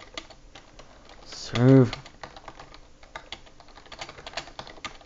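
Rapid computer keyboard typing during a Type Racer race, a steady stream of close clicky keystrokes with a short spoken word partway through.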